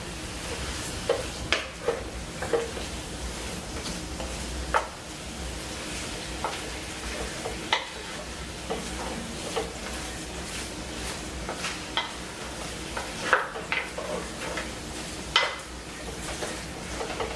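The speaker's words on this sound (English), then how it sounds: "I'm going to put in my Worcestershire sauce. Stir that." Ground beef stroganoff being stirred in a pan right after Worcestershire sauce goes in, with a steady soft sizzle and scattered scraping clicks of the spoon against the pan, close and moderately quiet.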